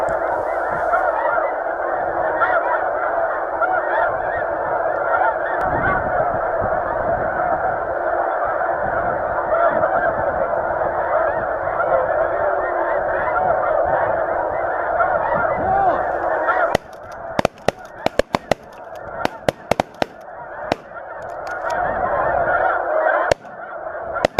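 Snow geese, including juveniles, honk continuously while circling over decoys during a South Dakota hunt, a dense, loud chorus of calls that keeps going throughout, with sharp gunshot-like bursts breaking in during the later part.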